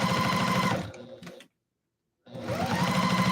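Sewing machine back stitching a ruffle, loud rapid mechanical stitching in two close bursts with a short silent pause between them, no talking.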